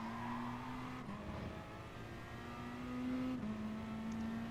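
A Porsche race car in GT Sport, a steady engine drone heard from a distance, its pitch holding, dipping at gear changes and climbing again as the car runs through the corners.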